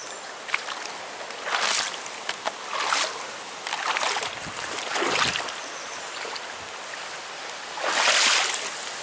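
Bare feet wading across a cold, shallow, slippery-rocked river in Michigan's Porcupine Mountains, with close splashing and sloshing steps coming in uneven bursts over a steady current.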